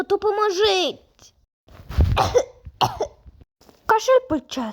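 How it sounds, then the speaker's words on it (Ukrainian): A child coughs a few times in short bursts close to the mic, with a voice and other voices heard around the coughs. "Кашель почесся."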